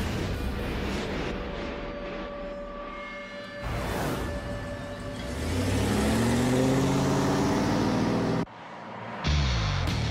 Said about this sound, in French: il va remorquer tout ça à plein régime pendant 24 heures d'affilée